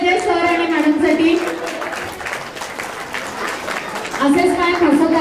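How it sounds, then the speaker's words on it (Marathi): A crowd claps at a child's fourth birthday party, with bursts of applause at the start and end, a softer dip in the middle, and a voice talking over it. "जोरदार टाळ्या झाल्या पाहिजे सर आणि मॅडमसाठी."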